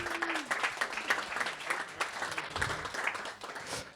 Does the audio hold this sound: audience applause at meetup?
yes